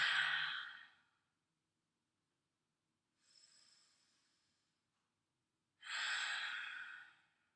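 Three loud, breathy exhalations during a power yoga flow, each lasting about a second with long silent gaps between them, the middle one softer than the other two.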